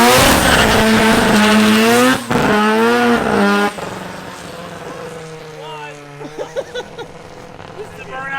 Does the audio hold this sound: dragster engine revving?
yes